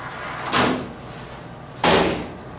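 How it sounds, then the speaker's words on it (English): Two heavy whooshing thuds, roughly 1.3 seconds apart, come from the low clearance door of an Insinger Commander 18-6 commercial dishwasher being pulled down and shut, close and loud against quiet machine background. "To close it, simply pull the handle down."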